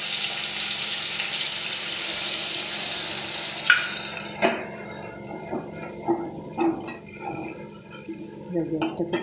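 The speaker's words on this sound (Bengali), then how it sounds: "এবারে জলটা দিয়ে দেবো, মশলা গোলা জলটা।" Spice-mixed water goes into a pan of frying fish: a loud hiss of sizzling gives way to quieter bubbling and scattered clinks of utensils against the pan.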